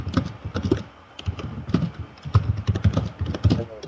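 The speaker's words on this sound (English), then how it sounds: "Typing going on." Rapid keyboard typing from a wrestling video game clatters in a steady, busy patter at close range, with no talk over it.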